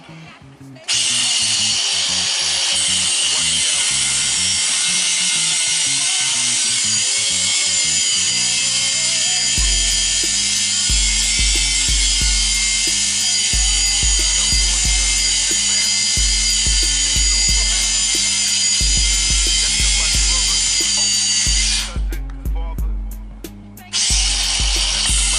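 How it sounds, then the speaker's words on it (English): A power tool grinds off a seized sway bar nut, a loud, continuous high-pitched screech lasting over twenty seconds under a rhythmic low thumping beat, with brief drops near the end. "He's grinding it off because that nut is a booger."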